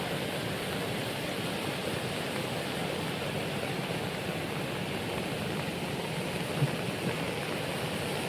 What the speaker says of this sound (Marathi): पाणी आहे ओढ्याला आता सध्या.